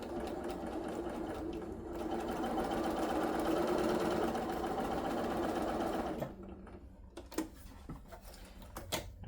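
A sewing machine stitches a flying geese quilt block, its fast, steady mechanical whir running for about six seconds before stopping, followed by quiet clicks and handling of the fabric.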